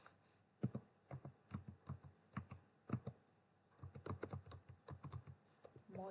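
Close, quiet typing on a computer keyboard while coding in Python: irregular clusters of sharp key clicks, sparse at first and then a faster run of taps, with nothing else in the room.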